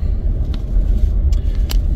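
A car rolls through storm-battered Jūrmala streets between Sloka and Dubulti. A deep, steady road and engine rumble fills the cabin, with faint scattered ticks on top and no one speaking.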